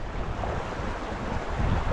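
Steady outdoor wind rushes and buffets the microphone during tenkara fishing with a hopper-dropper rig, a continuous broadband roar with a slight gust near the end and no talk.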